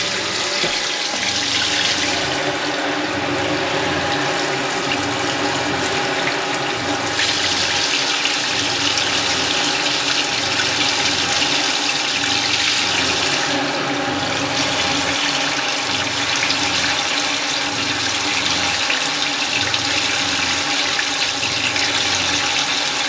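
A newly installed shower bilge pump on a boat runs steadily, moving water with a continuous rushing, gurgling flow and a constant motor hum throughout, with no talking.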